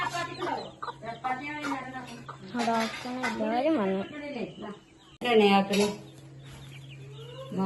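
Chickens cluck intermittently while people talk over them, with a clink of dishes nearby and a steady low hum underneath.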